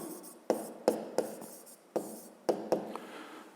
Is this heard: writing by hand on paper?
yes